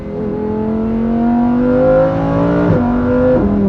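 A Lamborghini Huracan EVO engine revs from inside the car, a loud, smooth, rising drone that climbs steadily, then drops briefly as a gear changes and builds again.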